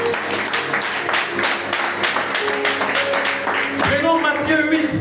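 Congregation at a French-language church service applauding, a sustained burst of hand-clapping from many people mixed with voices and cheering throughout, swelling slightly toward the end.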